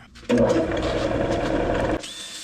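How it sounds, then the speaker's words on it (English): A wooden salad bowl spinning on a woodturning lathe while being sanded, a sudden steady whirring drone that runs for under two seconds and then stops abruptly. "So now let's sand from 80 to 400 grit."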